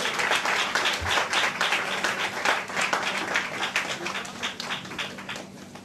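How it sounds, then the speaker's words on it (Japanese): Audience applause for the bar master after a blues band set at a small live venue, moderately loud clapping that swells and scatters over a few seconds, with no voices. "春平マスターに大きな拍手をお願いします"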